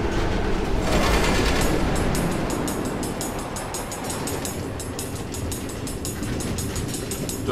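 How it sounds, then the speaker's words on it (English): Minecarts run on automated tracks in Minecraft: Story Mode, a loud continuous rolling rumble with regular metallic clicking as the wheels pass rail joints, steady and close with no talk. "Automated train tracks running all through the nether, connecting all the different order members?"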